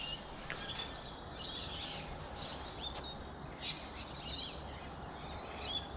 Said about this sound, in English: You hear that scarlet honeyeater up there too, that seesaw.